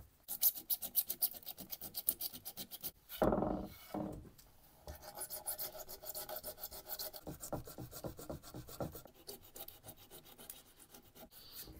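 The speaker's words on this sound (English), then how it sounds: "I'm just using up some of my dad's old sandpaper from the 80s. And this is a 50 grit." Coarse 50-grit sandpaper from the 1980s rasps across gold nitro lacquer on a guitar body in steady, close back-and-forth strokes, with a brief pause and a heavier scrape partway through before the rhythmic sanding resumes.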